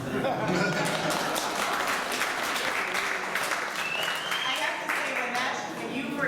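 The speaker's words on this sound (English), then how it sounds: "Just waiting there in case anyone wants to applaud." An anniversary event audience breaks into sustained applause, a dense, even roar of many hands clapping that carries on for several seconds.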